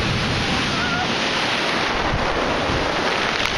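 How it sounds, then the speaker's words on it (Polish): Powerful sea waves crash and roar at the eastern beach of Oludeniz, Turkey, a dense, constant surf that fills the whole stretch, heavy with wind buffeting the microphone. "bo są potężne fale"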